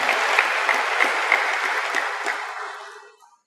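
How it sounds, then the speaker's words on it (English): An audience at a conversation event with Sadhguru and an actor claps in dense, steady applause that holds for a few seconds and then dies away, with no talk. "So, all those who clapped,"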